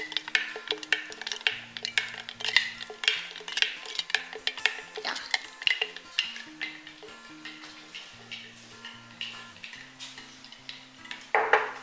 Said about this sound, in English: So I wanna keep stirring, because it's gonna start to heat up and melt these cubes